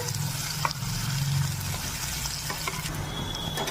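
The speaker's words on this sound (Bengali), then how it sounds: "পেঁয়াজটা দিয়ে হালকা করে ভেজে নেবো তেলে" Two large chopped onions frying lightly in a little oil in a pan, giving a loud, steady close sizzle with a few faint stirring clicks.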